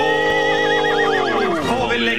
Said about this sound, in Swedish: En häst?